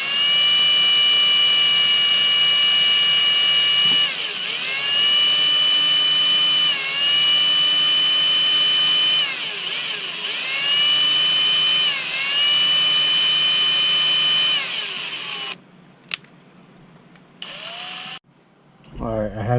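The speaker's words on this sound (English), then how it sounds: "I'm going to drill this out, and I'm going to take it slow." A power drill bores out a hole slowly with a loud, steady whine whose pitch dips repeatedly as the bit bites under load, then stops near the end, leaving brief handling noises.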